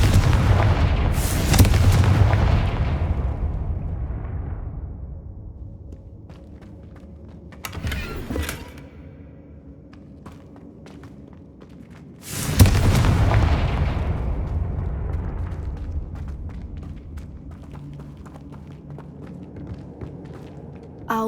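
Confringo blasting spells in the Hogwarts Legacy video game set off two big booming explosions with long rumbling decays, plus a sharper burst between them, loud and heavy with no talk.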